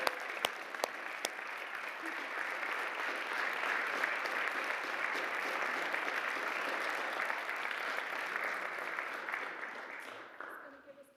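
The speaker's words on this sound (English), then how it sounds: "Join me once again, colleagues and friends, for a round of applause for our own Miss Phyllis" Colleagues and friends in the New York City Council chamber at City Hall applaud Miss Phyllis with steady, sustained clapping that holds for about ten seconds before tapering off, a few sharper claps standing out near the start.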